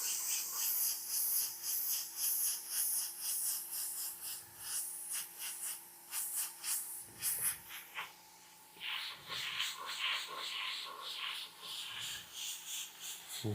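An airbrush sprays magenta paint in steady hissing bursts with short pauses between passes, close and fairly loud, with no talking.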